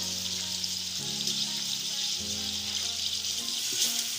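Garlic ginger paste fries with chicken and onions in a pan, a steady bright sizzle running throughout with occasional soft stirring and a faint tonal hum underneath, no talking.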